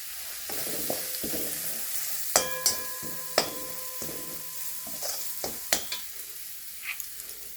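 Curry leaves hit hot oil and crackle, with several sharp pops and spits over a soft frying hiss, close and fairly quiet, with light clinks of a utensil.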